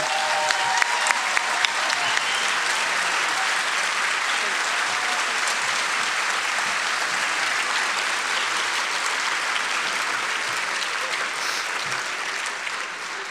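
Applause fills the room at the ITW ThrillerFest awards banquet, a continuous, dense roar of many hands clapping that holds steady and loud from start to finish, fading only slightly at the end.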